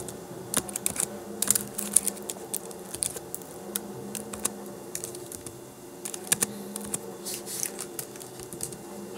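Steady typing of R code on a computer keyboard, a close, busy run of light key clicks with occasional louder strokes and brief pauses, no voice over it.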